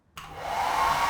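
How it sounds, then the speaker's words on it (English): A hair dryer switches on abruptly and roars steadily at close range while melting a cocoa butter flower pattern onto a thin sheet of dark chocolate mixed with glucose. "Using a hairdryer, he melts the pattern onto a thin piece of dark chocolate"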